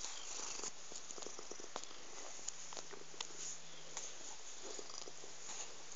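A cat purrs close up in a steady, soft, continuous rumble, with faint clicks and light rustling over it and no talking.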